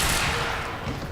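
Gunfire from the shooter video game Quantum Break, heard as a loud, dense burst that decays over about a second.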